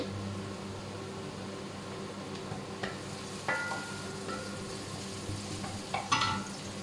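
Food cooks quickly in a pan, giving a constant gentle sizzle with occasional louder crackles and spatters near the end.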